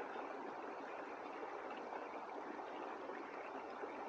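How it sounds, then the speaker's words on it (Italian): Continuous rushing of a mountain stream, broadband water noise flowing steadily without pause, close and even, no voices. "ascolta il rumore dell'acqua di questo torrente."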